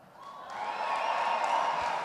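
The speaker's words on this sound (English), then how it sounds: "Sounds like we have a lot of Spartan fans out in the crowd." An indoor sports awards crowd of Spartan fans cheers and applauds, a broad swell of clapping and voices rising over a couple of seconds and holding steady.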